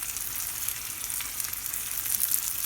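Tomato sauce sizzles steadily in a pan of hot oil for a vegan dish, a continuous bright hiss with soft crackle, close and fairly quiet, with no voices.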